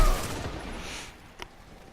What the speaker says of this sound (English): So I was shot with antipodal hindsight 2 times, maybe 3 times